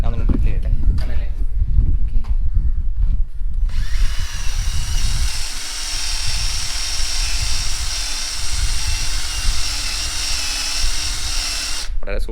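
An electric drill bores a hole in the plastic trim of a BMW G310 GS motorcycle. After a few seconds of handling knocks it runs as a loud, steady whine close by for about eight seconds, then stops abruptly.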